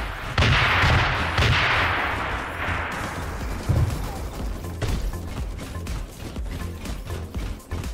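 Grenades and gunfire explode in the Super Mecha Champions video game, several loud booming blasts early on that fade into scattered shots and rumbling bursts.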